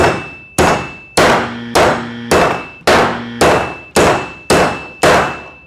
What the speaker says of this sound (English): So it's pretty quick with a hammer, doesn't require a ton of effort